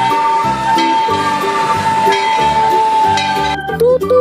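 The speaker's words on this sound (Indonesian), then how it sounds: "ada kereta api Thomas" A loud, steady steam-style whistle blows continuously over a rhythmic Thomas toy train chugging, ending with a brief burst of other toy sounds.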